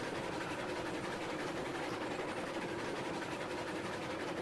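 A steady, dense rumble of a Shay steam locomotive chugging slowly along in the video game Railroads Online, with continuous rhythmic clatter and low engine noise filling the whole stretch.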